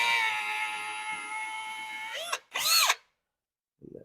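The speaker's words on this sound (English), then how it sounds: "So I can get a 16th inch drill bit" A power drill drilling a cabinet hinge hole with a 1/16-inch bit whines steadily for about two seconds, then revs briefly in two short bursts before stopping.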